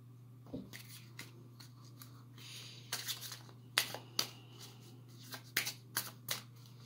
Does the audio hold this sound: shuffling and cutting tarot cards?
yes